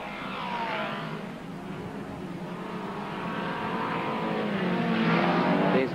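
Racing cars stream down the back straight of a circuit during a heat, a continuous blend of engine drones rising and falling as the field passes at moderate distance, growing slightly louder toward the end.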